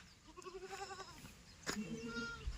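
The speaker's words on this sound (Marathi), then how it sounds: "इकडं बकरे बसले." Goats bleating at a farm, a wavering, quavering call up close followed by a further bleat after a sharp knock, with light background noise.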